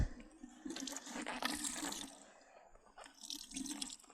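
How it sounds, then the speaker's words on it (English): Permethrin-soaked clothing is wrung out by hand, giving a close, quiet wet squelch and trickle of liquid running off the fabric in two short bursts. "I then wring it out as much as possible, and I place that in my dry bag"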